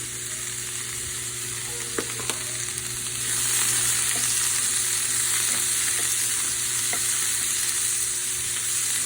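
Snap peas sizzle and fry steadily in a hot pan, a continuous bright crackle with occasional small pops and stirring clicks, close and fairly loud, growing slightly stronger partway through.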